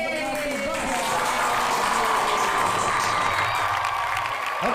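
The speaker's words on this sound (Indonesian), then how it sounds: "Tepuk tangan sekali lagi dong untuk Ngopi Bos." Applause and cheering from a crowd for the Ngopi Bos podcast, a lively mix of clapping and excited voices that stays loud and close for a few seconds.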